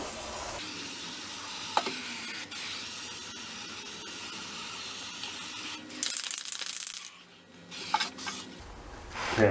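Aerosol undercoating sprayed onto the underside of a classic car at home, a steady close hiss running through most of the stretch, breaking off briefly and then returning in short loud bursts near the end.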